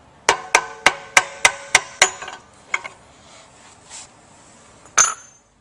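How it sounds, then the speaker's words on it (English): Hammer taps on a metal pump coupling ring out as seven sharp, evenly spaced clinks. A few softer knocks follow, then one final strike, all close and loud with no voices. "you might have to give this one a little tap"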